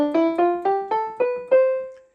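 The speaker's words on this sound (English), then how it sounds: "And here's the piano." Piano voice on a Burswood LS-939 electronic keyboard playing a rising run of seven single notes, each with a struck attack and short decay, the last note ringing out longer, close and clear with no talking.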